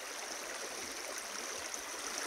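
Creek water runs steadily over a gravel bar at an inside bend, a soft continuous rushing and burbling with no voices.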